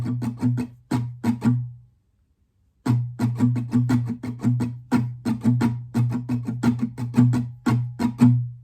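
An acoustic guitar strums the pattern for a song, a close, crisp chord rhythm with some strums accented. It stops briefly after the first bar, then carries on steadily to the end.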